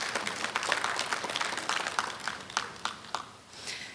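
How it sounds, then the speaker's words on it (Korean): Audience applause at a memorial ceremony after a musical performance, a lively mix of many hands clapping with some sharper individual claps standing out, moderately loud and gradually thinning toward the end. "다시 한번 박수 부탁드립니다."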